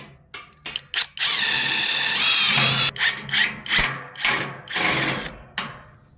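A power drill drives a pointed screw into steel C-channel for a cement-board ceiling frame: short revving bursts, then a sustained loud whine around two seconds, followed by several quick pulsing spins, close and alone without talk.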